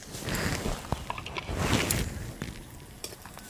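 Onions frying with crushed chili, ginger and a little salt give a moderate sizzle, punctuated by stirring scrapes and light utensil knocks against the pan at uneven moments.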